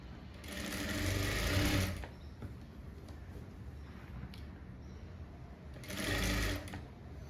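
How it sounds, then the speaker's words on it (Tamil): A sewing machine whirs in two close, steady bursts while stitching piping about a quarter inch in along a blouse back neck, with quiet pauses between runs. "இப்போது இதில் இப்படி வச்சுக்கிட்டு ஒரு 1/4 இன்ச்சுக்கு கூட வச்சுட்டு நான் இப்போ தைக்கிறேன்"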